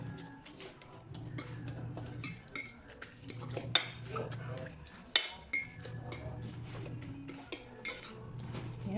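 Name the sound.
mixing corn tuna stuffing for tofu in a bowl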